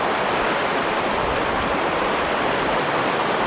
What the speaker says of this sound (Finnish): ja sitten tuolta tulee se toinen joki ja ne menee tossa samaa uomaa